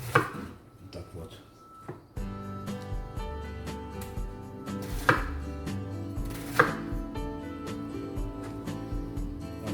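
Knife chopping white cabbage on a board for kimchi, a run of close, steady thuds and crunchy cuts under background music, with a few louder knocks.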